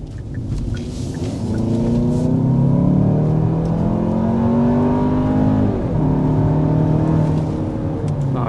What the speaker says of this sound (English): let's go ahead and start with a hard acceleration